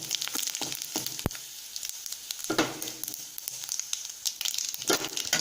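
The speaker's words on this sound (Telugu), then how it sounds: "ఆవాలు చిటపటలాడుతున్నాయి కదా" Mustard seeds splutter in hot oil in a kadai, sharp irregular pops and crackles over a continuous sizzle, close and fairly loud, with no talking.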